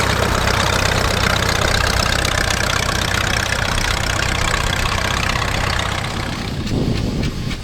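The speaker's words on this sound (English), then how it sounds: "1924 Fordson Model F" A 1924 Fordson Model F tractor engine running at a steady idle, a continuous low mechanical chug with a rapid regular beat, close and loud, shifting slightly near the end.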